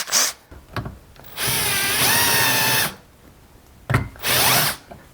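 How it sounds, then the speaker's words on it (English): A power drill rounding off a Stihl chainsaw bar stud revs in several short bursts of grinding whine, separated by pauses with faint clicks and handling sounds, close and loud. "I'm just going to put one of these on my drill and just round it off here."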